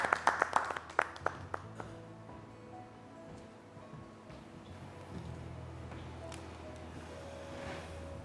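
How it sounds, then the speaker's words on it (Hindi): Applause from the audience at a Ramadan iftar program, with a burst of sharp nearby claps at the start that settles into softer, scattered clapping and faint crowd murmur. "बहुत सारी तालियाँ"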